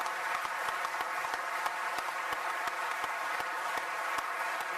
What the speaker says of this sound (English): please give a round of applause to these agreements